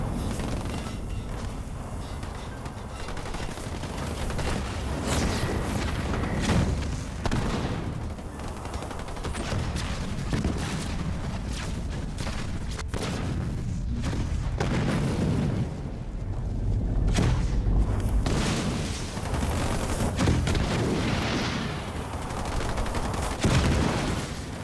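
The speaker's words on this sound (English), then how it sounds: "the tickle shots from the Aatrox Chosen are actually picking off the infantry very" Sustained gunfire and explosions from Chosen units battling infantry in the Halo Wars 2 strategy video game, a continuous loud barrage of shots and booms with no pauses.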